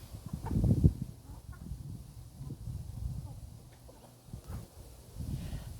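Hens cluck softly and intermittently nearby, low throaty murmurs rising and falling with a few sharper notes in a quiet outdoor setting.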